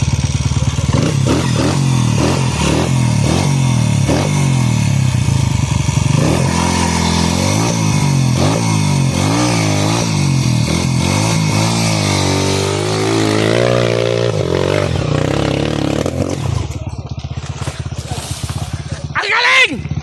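A trail motorcycle engine revs repeatedly nearby in rhythmic bursts, then climbs into a sustained rising rev before cutting off, with excited people shouting and talking over it throughout.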